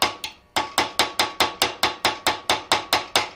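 A hand graver is driven into a steel hammer head with quick, even metallic taps, about four per second after a short pause, close and crisp with no voices.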